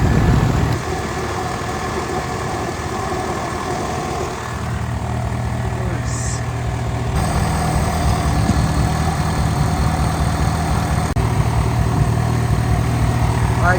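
Worn Honda Prelude engine idling at warm temperature with an idle surge, a steady close rumble whose pitch and level shift partway through as the revs rise and settle, continuous for the whole stretch.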